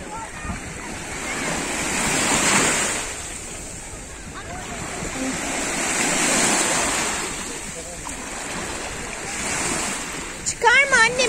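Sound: sea waves at the beach

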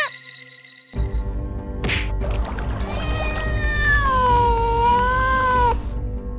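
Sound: cartoon cat meowing

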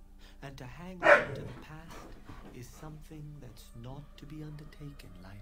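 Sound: dogs barking

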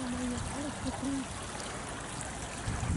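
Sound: small stream trickling

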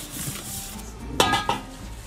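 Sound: cake pan being taken and greased with olive oil

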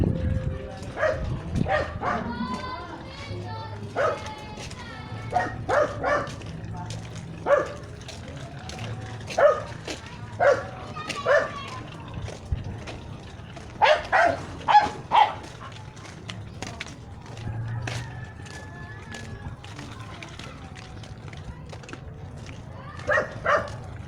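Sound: dogs barking

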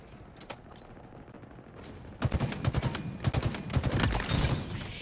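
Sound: machine gun fire in Halo Infinite video game

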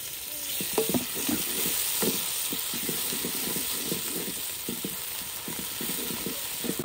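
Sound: tomatoes frying with onion and garlic in a kadhai

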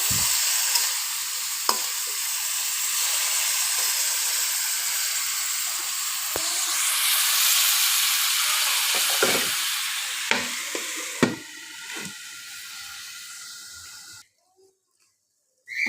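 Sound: stirring green chilies frying in a pan with egg and kaitha

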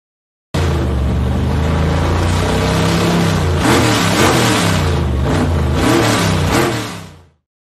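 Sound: GM performance teaser clip, car engine revving

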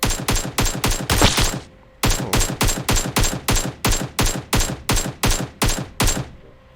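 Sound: AK rifle gunfire in video game PUBG Mobile

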